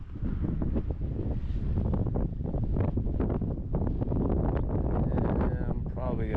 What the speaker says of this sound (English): Man, that wind just pushes my rod all over the place too.